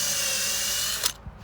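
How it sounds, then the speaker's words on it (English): A power drill driving screws into a piece of wood for a drum-style chicken plucker, a steady close whine that ends in a short clunk and a brief follow-up bump, with no speech. "secure the piece of wood with some screws"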